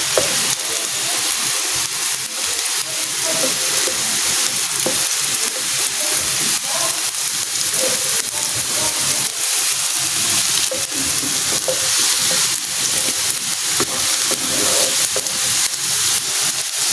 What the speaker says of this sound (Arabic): نبقاو نحركو فيها حتى يعني تولي لنا كريمه تتقاد شويه.